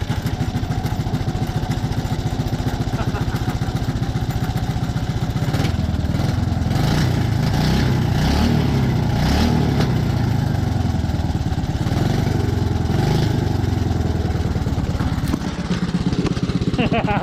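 A 5 hp Briggs and Stratton small engine with a leaking line runs after being pull started, a loud, close, steady chugging putter for the whole stretch with some speech mixed in.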